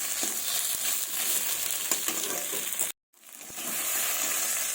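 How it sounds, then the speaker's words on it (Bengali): Spice paste sautéing in a pan for a fish dish with tender bottle gourd shoots, a steady bright sizzle with scraping stirs, cutting out briefly before the frying resumes. "মশলাটা আমার ভালোভাবে কষানো হয়ে গেছে"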